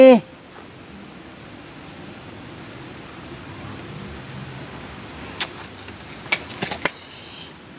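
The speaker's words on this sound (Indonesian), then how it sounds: "Serangga Serangga loh sini" Insects chirp in a steady high-pitched drone throughout, at moderate level outdoors, with a few brief sharper clicks toward the end and faint low background rumble.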